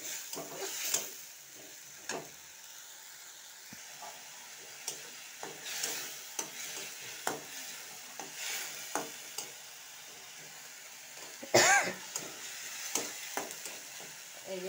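Ground masala paste frying in a pan for masala okra (bhindi), soft sizzling beneath repeated scraping stirs of a spoon, with one sharper clatter partway through.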